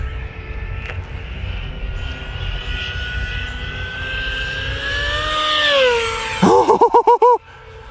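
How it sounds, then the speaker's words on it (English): An E-flite V1200 electric RC jet plane flies past at high speed, a steady whine that rises as it nears, then sharply drops in pitch as it passes, ending in a few choppy fluttering bursts. "It's like the fastest plane that I own, bar none."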